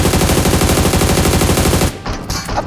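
An MG machine gun in a mobile shooter game fires a long, loud, fast burst of closely spaced shots, then cuts off and leaves a few scattered fainter noises.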